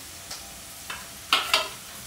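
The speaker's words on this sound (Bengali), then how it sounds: "তো দেখো আমার পেঁয়াজগুলোকে লাল লাল করে ভেজে নেওয়া হয়ে গেছে।" Onions frying in a pan under a soft steady sizzle, broken by a few quick scraping stirs, the last two louder and close together.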